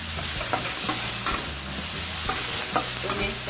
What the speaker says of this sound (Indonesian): Lalu kita mau tumis si bawang-bawang nih. Kita tumis-tumis.